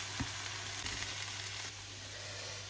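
Mushroom roast for a Kerala-style dish sizzles steadily in a pan while being stirred, with a soft continuous frying hiss and a few faint scrapes, no voices.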